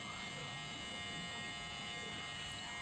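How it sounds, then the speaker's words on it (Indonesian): An electric hair clipper buzzes steadily while shaving a burst fade haircut, a constant faint hum with no pauses and no talk. "Oke, kita cukur, kita bersihin."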